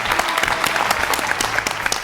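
Audience applause on a Flowers TV cooking show, a dense steady burst of many hands clapping at close range for about two seconds.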